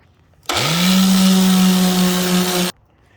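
A power sander whirs up abruptly on metal of a mower, runs at a steady high-pitched buzz for about two seconds, then cuts off sharply.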